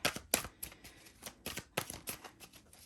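Faint tarot cards being shuffled, a series of quiet crisp riffles and slaps coming in irregular bursts, close by and without talking.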